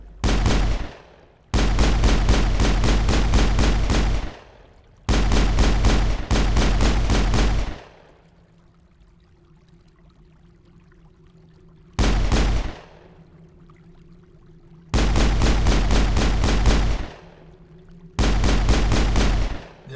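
Sniper rifle fire in the PC game Mass Effect, a run of loud sharp reports in dense bursts, separated by quiet gaps holding a low steady hum.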